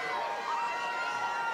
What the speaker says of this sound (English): Lots of cheering for Mary up here.